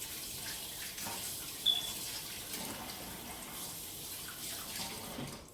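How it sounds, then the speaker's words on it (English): Kitchen tap running as hands are washed under it, a soft, distant stream of water with faint splashing, steady and quiet throughout. "Let me wash my hands."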